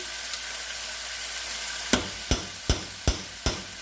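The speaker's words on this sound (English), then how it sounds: "Stir that in there." Tomato paste stirred into shepherd's pie filling in a pan, with a low steady cooking hiss followed by five sharp, evenly spaced knocks of a utensil against the pan.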